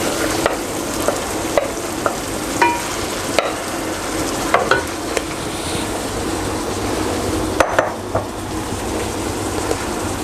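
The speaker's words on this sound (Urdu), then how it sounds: "ابھی میں اس میں شامل کر دوں گا میرینیٹڈ چکن" Marinated chicken sizzles in a frying pan of fried onions for dum biryani, a loud constant crackle punctuated by regular scrapes and knocks of stirring, no one speaking.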